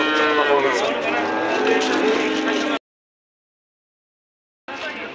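Cows moo loudly at the Shahrixon livestock market in Andijan, one long sustained low call filling the first half, then silence before another moo begins at the end.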